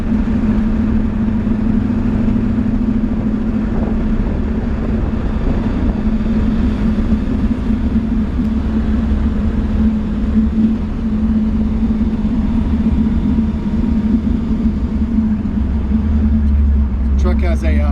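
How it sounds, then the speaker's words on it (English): A 1951 Ford F-1 pickup engine running steadily close by, a loud continuous low rumble with a strong droning hum and slight revving variation, with someone talking over it. "It's got a wicked sounding engine."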